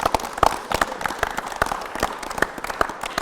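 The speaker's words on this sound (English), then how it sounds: "and I think they want to clap" A small concert audience in St Luke's claps in a lively round of applause, scattered distinct handclaps at close range with no talking.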